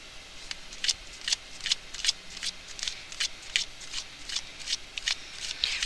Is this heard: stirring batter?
no